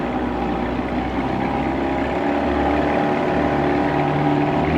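A 1990 Johnson 20 hp outboard motor drives a boat at speed, producing a loud, steady, unbroken engine drone with a low hum and no talk over it.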